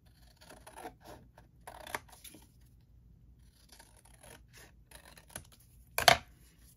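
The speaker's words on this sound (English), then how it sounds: "I can probably just use my scissors instead of getting at my" Soft scissor snips and light scraping of material, a few scattered cuts close by, ending in one sharper louder snip near the end.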